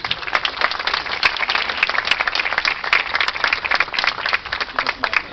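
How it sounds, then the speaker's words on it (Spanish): Brothers and sisters at a Catholic procession for Our Lady of Reconciliation in La Molina burst into loud, close clapping. The applause is dense and rattling, with sharp individual claps over the crowd, and no distinct voices stand out. "¡Aplausos, hermanos!"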